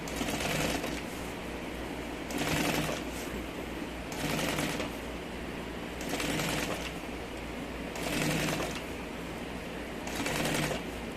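A sewing machine stitches a large bag in about five rhythmic bursts of whirring, each a second or so long, separated by pauses with a faint steady hum, close and fairly quiet with no talking.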